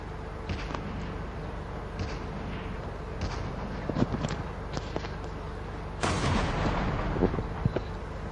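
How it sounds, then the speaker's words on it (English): Tank cannon fire in a video game: repeated booming shots at irregular intervals over constant battlefield rumble, with a sharper, louder blast late in the sequence. "oh no, he's shooting right here"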